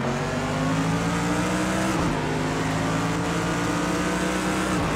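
A race car roars loudly at close range on a track in Zhuhai, with a steady high engine drone and a brief shift in pitch as another car runs alongside.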